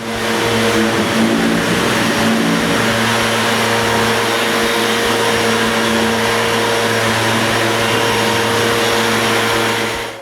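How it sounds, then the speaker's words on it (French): A vacuum cleaner drones loudly and continuously, cleaning over and around brushed wooden beams in a workshop under construction, with a steady motor whine and no talk. "je passe l'aspirateur partout, sur puis autour des poutres qu'elle a brossées"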